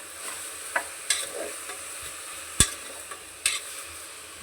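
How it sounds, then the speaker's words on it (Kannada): Salted country chicken stirred in a frying pan, a soft steady sizzle broken by several sharp scraping clicks of the spoon against the pan at irregular intervals, close by with no talking. "ನಾನು ಇವಾಗ ಉಪ್ಪು ಹಾಕ್ಕೊಂಡು ಒಂದು ಸ್ವಲ್ಪ ಹೊತ್ತು ಈ ಥರ ಮಿಕ್ಸ್ ಮಾಡ್ಕೊತೀನಿ"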